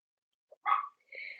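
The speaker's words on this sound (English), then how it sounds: "And Digger's still barking" A dog barking: one short, faint bark rising out of silence, then a higher drawn-out whining yelp, brief and fairly distant.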